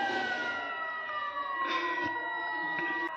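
A wailing siren sounds continuously at the end of sehri time during Ramzan, a steady distant tone with slowly falling pitch and no talk over it.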